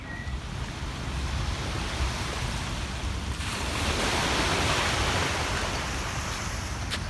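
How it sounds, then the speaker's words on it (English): A river near a Boca del Rio, Mexico apartment gives a continuous broad rushing wash, steady and fairly close, swelling slightly louder partway through, with wind buffeting and no talking. "So here's the river"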